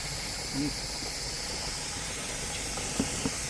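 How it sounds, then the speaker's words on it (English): Steam hisses steadily out of a pressure vent: a continuous, even broadband rush at moderate level, with a couple of faint knocks near the end and no voices. "so you guys can see the steam coming out of that vent"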